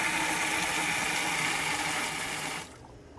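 Water pours steadily into a new plate set out for a dog, a continuous close splashing stream that stops abruptly near the end, leaving quiet room tone.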